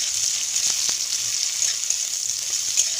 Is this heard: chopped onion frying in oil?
yes